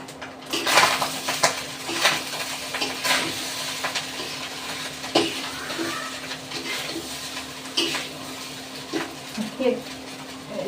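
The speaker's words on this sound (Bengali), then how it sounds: "সকালে অনেকগুলো ভাত ছিল সেই ভাতগুলো ভাজতেছি" Leftover rice is stirred in a pan, a spatula clattering and scraping against metal in an irregular rhythm over a soft frying hiss, with a voice speaking at times.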